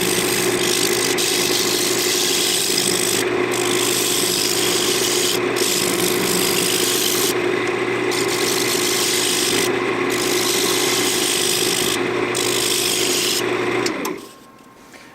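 A continuous rasping scrape of a negative rake scraper cutting spinning walnut on a lathe, loud and steady over a motor hum, stopping abruptly near the end.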